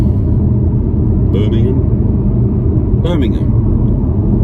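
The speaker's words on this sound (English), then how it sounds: "I find myself in the car again, and I'm driving all the way from Birmingham" Steady low road rumble and engine drone from inside a moving car on a long motorway drive from Birmingham to Bristol, continuous and close, with a couple of brief voice bursts over it.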